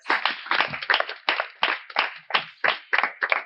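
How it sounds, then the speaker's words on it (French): A gathering claps in tribute to a king, a sparse, uneven burst of handclaps close by, separate claps landing in irregular clusters with short gaps between them. "un tonnerre d'applaudissements pour notre grand roi"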